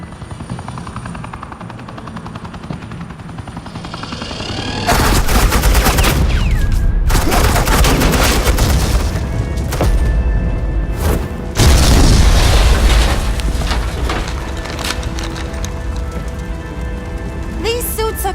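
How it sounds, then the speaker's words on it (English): Suppressing gunfire in the Batman Telltale Season 2 video game: a low hum gives way to loud, sustained automatic fire in long bursts with heavy booms, broken by brief gaps, no speech heard. "suppressing fire."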